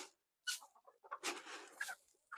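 Several chickens cluck and squawk in short, irregular bursts close by, with a rooster call among them and brief quiet gaps between, as they are let out of a coop.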